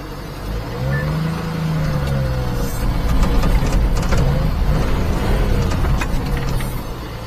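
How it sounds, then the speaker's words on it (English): A mini truck engine revs and drones continuously with a supercharger seizing up, a loud close mechanical roar with a faint whine rising and falling. "I think the supercharger's seizing up."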